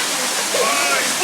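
A waterfall in Rarotonga roars as a dense, steady rush of falling water while people swim in its pool, the wash filling the whole short stretch.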